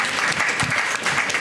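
A crowd applauds at a music academy's fourth anniversary event, a continuous wash of clapping, loud and close, with a voice faintly underneath.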